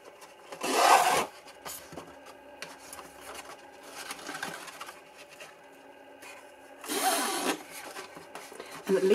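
Sewing machine stitching through a cardboard gift box, with quiet rasping and rattling bursts of stitching between softer handling noises, fairly faint and close.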